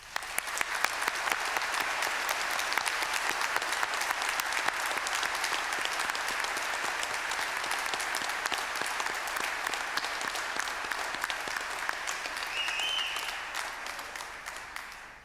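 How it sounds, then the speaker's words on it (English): An audience at a Monash University graduation ceremony applauds the graduates, a long, dense round of clapping that holds steady and then slowly tapers at the end, with no voices over it. "I now ask the members of the audience to applaud your accomplishments"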